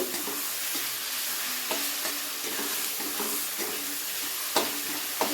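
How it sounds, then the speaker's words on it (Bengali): Ginger garlic paste is stirred and sautéed with onions in a hot pan for Bengali fish-bone chorchori, a continuous close sizzle broken by regular scraping strokes of the spoon. "এরপরে খুব ভালোভাবে আদা রসুনটাকে পেঁয়াজের সাথে কষিয়ে নেব।"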